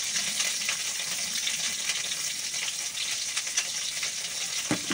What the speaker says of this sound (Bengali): উচ্ছেটা ভেজে নিয়ে একটু হলুদ দেবো আর একটু লবণ দিয়ে উচ্ছেটা ভাজবো